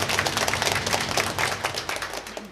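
Parishioners at a Catholic midday Mass in Thành Lập parish clap to thank their priest, giving a brief, dense round of applause that fills the church evenly throughout.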